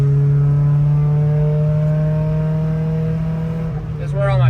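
A car fitted with a MegaSquirt ECU pulls hard in third gear near 4,000 RPM, a loud, close, steady engine drone that shifts and climbs slightly at the very end.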